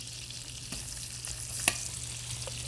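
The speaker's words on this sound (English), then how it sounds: "we're gonna saute our onions and mushrooms" Onions sizzling in a hot pan on the stovetop, a steady close frying hiss with a few faint stirring clicks and one sharp clink, no talking.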